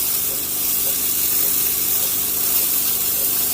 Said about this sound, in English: and then I'll activate the steam wand.